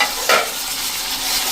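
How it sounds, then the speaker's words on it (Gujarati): Chopped tomatoes drop into hot oil spiced with red chilli for a brinjal and potato curry. A sharp burst of sizzle is followed by steady frying hiss over a second and a half. "અને હવે આપણે જે આ ટમેટા સમાર્યા છે ને એ નાખી દઈશું."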